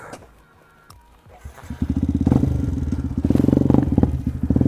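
A motorcycle ridden by a food delivery courier pulls away and rides on, its engine rising from a quiet idle to a loud, steady, pulsing drone with some rattle, close by and with no talk.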